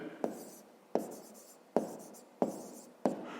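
A pen writes a math answer on paper in five distinct scratchy strokes, evenly spaced and close, each starting sharply and trailing off.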